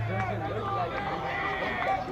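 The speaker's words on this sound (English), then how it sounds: "you can just hear the crowd, the coaches, the players, everybody getting into it here" Crowd noise at a Friday night youth rugby match, with coaches and players shouting amid a steady babble of voices close by, continuous throughout.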